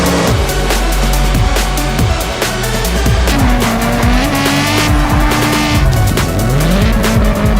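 A car drifts in the CarX Drift Racing Online 2 video game, its engine roaring loudly under long, sliding tire squeals that rise and bend in pitch.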